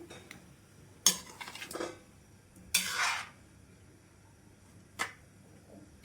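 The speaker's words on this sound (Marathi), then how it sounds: "हे पाच एक मिनटं ढवळत ढवळत आपण साखर विरघळून घेऊया" A spoon stirs sugar syrup in a pan for an amla preserve, making a few short metallic scrapes and clinks spaced seconds apart. Quiet room tone fills the gaps, with no speech.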